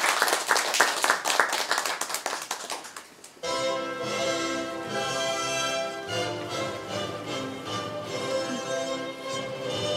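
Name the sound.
audience applause before a play reading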